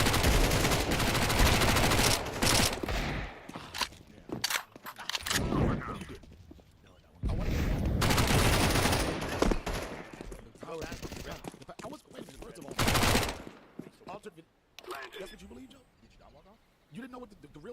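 Gunfire in Counter-Strike 2, loud bursts of rapid automatic shots in several long volleys with short quiet gaps between them, and players talking in between.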